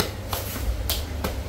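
A hand pats the back of the thigh over the hamstring during a massage to ease muscle soreness, giving three soft, quick slaps spaced apart over low background noise.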